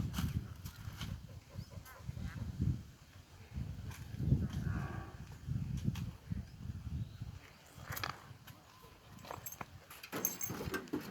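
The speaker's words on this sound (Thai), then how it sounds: "ไป เลี้ยงแกะกันมา" A flock of sheep is herded in a rural Thai setting, with repeated low, drawn-out bleats overlapping at a moderate distance and rising and falling throughout.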